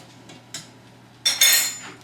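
A couple of light metallic taps, then a metal lid clanks down onto a pan of boiling water with an egg in it, a bright ringing clatter, close by.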